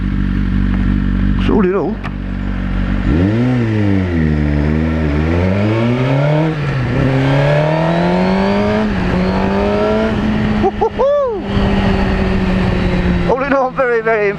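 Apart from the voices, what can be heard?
Suzuki GSX-R1000 superbike with Yoshimura exhaust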